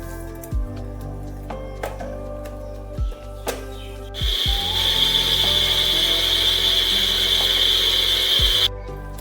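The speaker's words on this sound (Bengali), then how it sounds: "মিক্সার গ্রাইন্ডারে আমার সুজি ভালোভাবে মিহি করা হয়ে গেছে।" A mixer grinder grinds semolina for an eggless mango cake, starting with a few short clunks and then running as a loud, steady, high whirring roar for about five seconds before cutting off.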